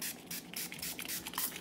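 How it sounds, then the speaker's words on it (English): A handheld spray bottle mists a houseplant's leaves to treat mealybugs, giving several short hissing bursts in quick succession, close by, with faint handling noises between sprays. "I spray all the tops of the leaves"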